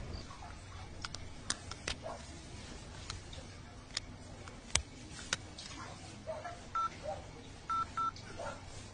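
Faint ticks and rustling come first, then a few short, clear telephone keypad beeps in quick succession as Dial 100, the Telangana police emergency line, is called.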